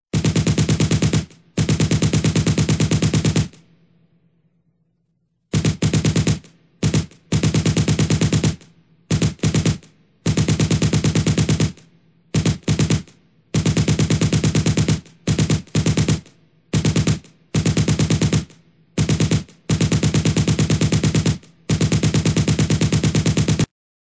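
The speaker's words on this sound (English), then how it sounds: "Sorry, Silver, I didn't mean to shoot you" Sustained, loud automatic gunfire in a Sonic animation comes in long bursts and shorter rattles, broken by brief silent gaps and one quieter lull.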